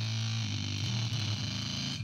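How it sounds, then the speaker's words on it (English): Sustained bass guitar notes growling through a heavy hyper fuzz pedal, thick and buzzy, changing pitch partway through, loud and close with no talking. "I do like the hyper fuzz pedal right here."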